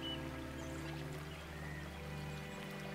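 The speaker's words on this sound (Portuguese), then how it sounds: "Aprecie também a música da água, o som do rio," A river stream flows with a steady, continuous rush and pour of water under soft, sustained musical tones.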